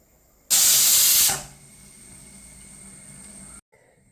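A kitchen pressure cooker vents steam in a sudden loud, close hiss lasting about a second, then settles into a weaker steady hiss that cuts off abruptly.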